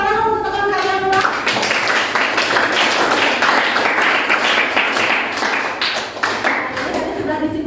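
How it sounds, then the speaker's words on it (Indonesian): Schoolchildren in an Indonesian classroom clap together for a classmate, a burst of brisk, dense applause lasting several seconds, with a teacher's voice heard at the start and end. "Berikan tepuk tangan untuk teman kalian ulang."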